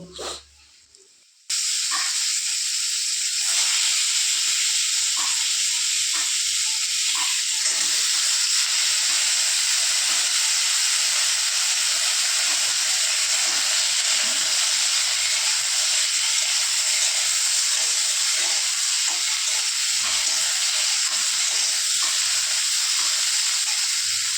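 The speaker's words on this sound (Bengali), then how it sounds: "কড়া বসিয়ে দিয়েছি কড়ার মধ্যে পাঁচ ফোড়ন দিয়ে দিলাম" Loud, continuous hiss and crackle of panch phoron spices sizzling in hot oil in a wok, starting abruptly after a brief quiet moment and holding steady throughout.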